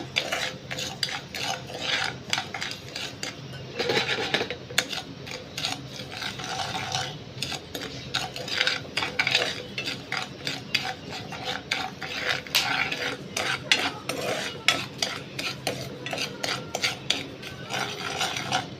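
Sugar being stirred in a sauté pan as it caramelizes, with steady scraping and clinking of a utensil against the metal pan, close and continuous throughout.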